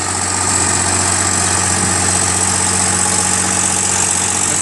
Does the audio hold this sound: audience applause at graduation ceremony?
no